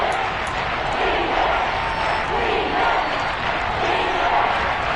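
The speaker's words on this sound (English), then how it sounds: "this crowd urging on their defense. They're up and making noise" A large stadium crowd in a football video game roars continuously, a dense wall of cheering and shouting that holds steady in the distance without letting up.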